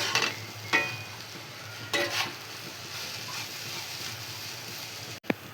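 Dry jute greens stirred and fried with salt in a pan, a steady low sizzle broken by a few scraping stirs, close by, with no talk.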